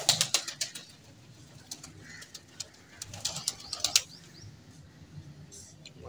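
Pigeons coo softly amid bursts of wing flapping and rustling, with several sharp flutters early on and a quieter, steady background throughout.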